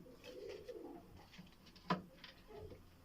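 Pigeons coo at a breeder's loft in a low, soft murmur, with a sharp brief knock or flutter near the middle of the clip and a faint background hum.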